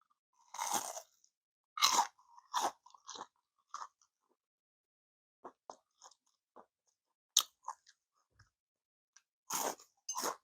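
Crispy fried pork cutlet (donkatsu) is bitten and chewed close up in a quiet room, giving sharp, loud crunches in irregular bursts, with softer chewing between bites.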